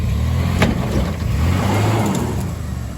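A car engine revs hard as its wheels spin in place, close and loud, with a steady rising roar and occasional sharp bits of flung gravel at an outdoor festival.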